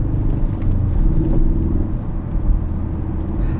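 A 2016 Ford Focus RS on a test drive gives off a steady low engine rumble heard from inside the cabin, dense and unbroken with slight throttle swells.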